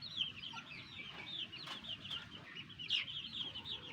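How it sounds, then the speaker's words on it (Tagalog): Native and Chinese breed chickens cluck and chatter at close range, a busy run of short, repeated calls with a few louder squawks over a low background rumble. "Yan yung aking mga manok."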